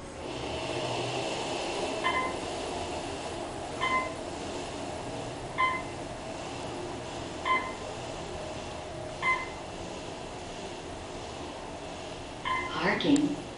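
An Otis Gen2 Series 4 traction elevator in a hospital parking garage starts up and descends, giving a steady low hum broken by evenly spaced soft chimes about every two seconds and a louder clatter near the end.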